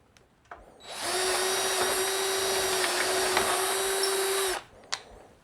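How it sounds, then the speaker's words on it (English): A power drill spins up and runs at a steady high-pitched whine for several seconds, near and loud, then winds down, followed by a couple of clicks. "now we'll drill the regular hole"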